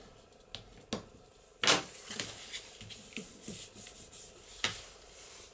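Paper on a handmade card is burnished down with short scraping rubs, a few quiet separate strokes with small pauses between them and no voices.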